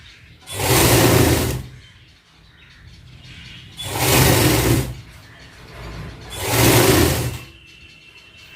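A sewing machine stitches a binding strip onto the back neck of a garment in three loud, even bursts of rapid whirring, separated by short quiet pauses.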